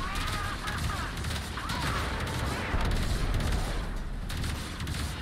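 Gunfire aimed at a cruise ship in Warframe, rapid overlapping shots and booms forming a dense, loud barrage with a constant rumbling background.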